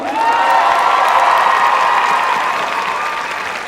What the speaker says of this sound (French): On peut applaudir le Brésil aussi, non?